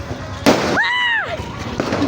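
A single sharp firecracker bang at New Year, followed right away by a rising and falling tonal whistle, over a noisy outdoor background.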